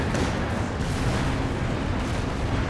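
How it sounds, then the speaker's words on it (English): Cluster bombs in Company of Heroes 2 burst in a dense, continuous roar of overlapping explosions and artillery-like booms, loud and unbroken from start to finish. "Drops the cluster bombs down."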